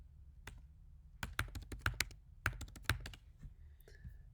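Keystrokes on a computer keyboard as a password is typed for a new storage admin account: a dozen or so crisp, close clicks in uneven bursts, with no talk over them.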